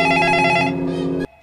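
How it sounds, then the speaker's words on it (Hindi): A telephone rings in a horror story scene, a loud, steady electronic bell tone that stops abruptly after about a second, with no talk. "और राजेश का फोन बजता है।"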